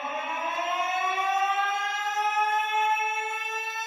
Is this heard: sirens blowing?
yes